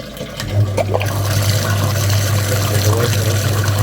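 Water rushing and gurgling through the heater core of an Audi A4 B8 during a cooling system flush, a loud continuous flow with a steady low hum from a pump underneath.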